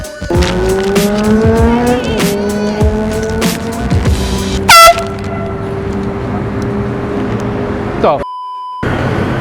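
A loud air horn blares in a prank, with long sustained blasts rising over car noise and squealing tires, then a short sharp burst and a final steady tone near the end.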